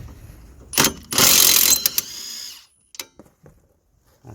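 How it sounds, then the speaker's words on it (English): An impact wrench working on a Toyota Yaris rear wheel bearing job, a loud rattling burst of hammering followed by a few short clanks and tool taps nearby. "So now we're going to use impact wrench."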